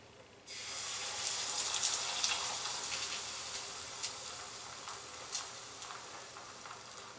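Reconstituted egg hits a hot pan and sizzles with a sudden onset, a steady hissing frying sound with small pops and crackles, close and moderately loud.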